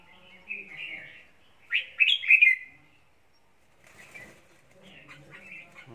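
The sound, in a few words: birds chirping and flapping wings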